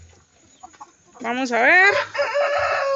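Hens clucking and a rooster crowing loudly nearby inside a newly built poultry shed, with a short spoken phrase at the start before the crowing takes over.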